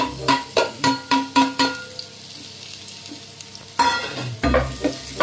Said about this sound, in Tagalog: igigisa lang yung sibuyas, bawang